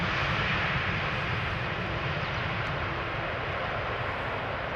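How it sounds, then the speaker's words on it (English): A KLM Boeing 777-200 airliner arriving from Willemstad, Curaçao at Schiphol Airport produces a loud, steady broadband jet roar that stays constant and close throughout. "This is KLM B734, a 777-200 having arrived from Willemstad,"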